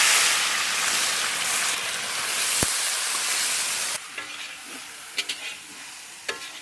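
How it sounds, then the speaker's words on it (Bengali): Chopped onions fry in hot mustard oil in a wok, a loud steady hiss and sizzle that drops to a softer crackle with scattered spatters and pops, near and with no talking. "পেঁয়াজটা ভাজা হচ্ছে"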